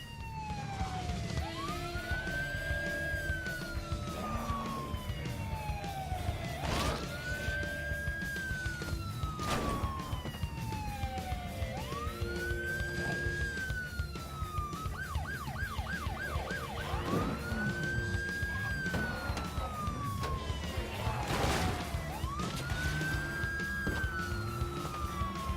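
A police car siren in a zombie video game wails in repeated rising and falling sweeps, each lasting a few seconds, fairly faint and steady over low background noise, with no voices.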